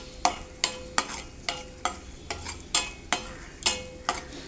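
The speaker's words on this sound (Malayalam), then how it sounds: "ഒരു ചെറിയൊരു ചീനച്ചട്ടിയിൽ ഞാൻ നെയ്യൊക്കെ ചൂടാക്കാൻ വെച്ചിട്ടുണ്ട്. അതിലോട്ട് നമുക്ക് ആദ്യമേ തന്നെ കശുവണ്ടി ഇടാം" Cashews frying in hot ghee in a small pan over very low heat, with a spoon scraping and stirring in a steady rhythm of about two strokes per second over a soft, continuous sizzle, close up and alone.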